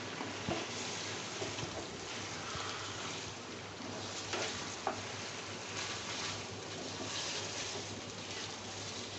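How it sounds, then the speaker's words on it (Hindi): Ginger, garlic and meat for chicken badami korma frying in a pot: a steady, fairly quiet sizzling hiss with occasional small pops and crackles, heard alone without talk. "अब मैंने इसे उस वक्त तक भूनना है जब तक इसका रंग ना चेंज हो जाए"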